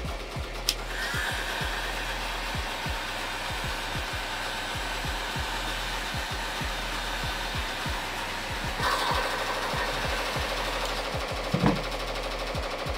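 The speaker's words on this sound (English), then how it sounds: "hit it with the heat gun, tighten everything up" A heat gun blows steadily on an embroidered foam hat, tightening loose thread and foam: a continuous airy whir held close and even throughout, with a low motor hum beneath and a brief rise in the rush near the end.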